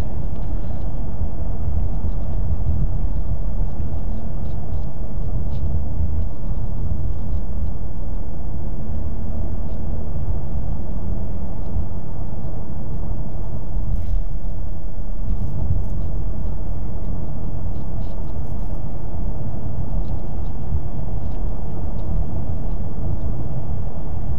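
Interior of a 2016 Ford Mustang EcoBoost with the 2.3L turbo four on the move, a steady low rumble of road and engine noise filling the cabin without letup and without anyone talking.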